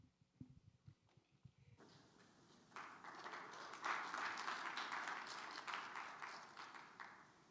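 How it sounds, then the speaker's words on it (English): An audience at a Grade 8 school exhibition breaks into applause after a short stretch of quieter sounds, and the dense clapping swells and holds steady to the end. "give him a round of applause."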